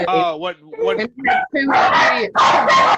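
A dog barks loudly several times in quick succession indoors, following a stretch of people talking close by.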